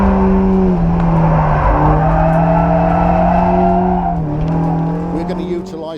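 A BMW 116 set up as a tarmac rally car drives past loudly and close, its engine droning with rising and falling revs and a hint of tire squeal, while someone talks over it.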